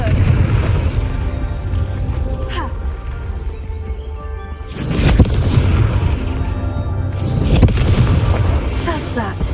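The Confringo fire spell in Hogwarts Legacy on PS5 goes off in two heavy, booming blasts a few seconds apart. Each blast is loud and broad, with the game's constant ambient rumble underneath.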